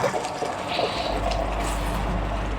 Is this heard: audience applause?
no